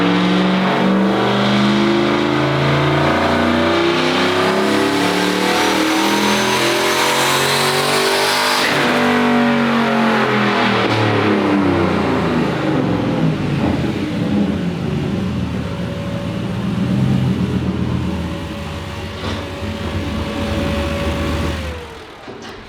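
A turbocharged car engine roars at full load on a dyno, pitch climbing steadily for several seconds, then winding down and idling before a final drop, loud and close.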